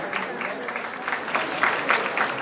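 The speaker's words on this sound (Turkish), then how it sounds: "Bu çiftimize kocaman bir alkış rica ediyorum" Applause from a wedding crowd for a couple, a continuous patter of many hands clapping at moderate distance, swelling slightly toward the end.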